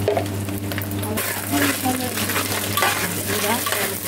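Food sizzles in hot oil in a pan while a utensil stirs it, loud and close, with crisp frying hiss and scraping stirs throughout.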